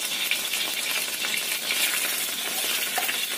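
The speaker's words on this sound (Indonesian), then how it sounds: "Kemudian sisa minyaknya ini kita masukkan bawang putih." Garlic sizzles in leftover beef oil in a hot pan, a steady close crackle and spatter with small stirring clinks throughout, no voices.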